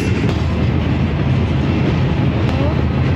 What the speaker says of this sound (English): we're stopped by a train